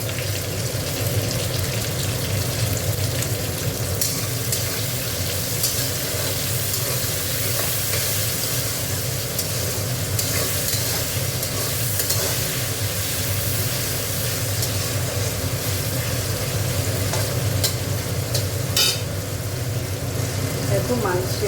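Chicken marinated in ginger-garlic paste sizzles loudly in a pan with onion and tomato, a constant close frying hiss with occasional scrapes as it is stirred.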